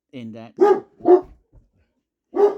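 A pet dog barks sharply nearby in three or four separate, agitated woofs with gaps between them, in an indoor setting.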